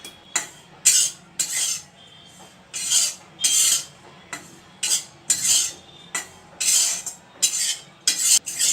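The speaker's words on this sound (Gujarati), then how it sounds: "પહેલાં આપણે કોરું કોપરું શેકી લઈશું સેજ" Dry grated coconut is roasted in a pan on the stove while a spoon scrapes and stirs it in quick, rhythmic strokes, with brief pauses between them and no voices.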